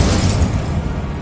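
Spell explosions burst in the video game Hogwarts Legacy, a loud, dense blast of booming, crackling noise that fades slightly over about a second, with no voices over it.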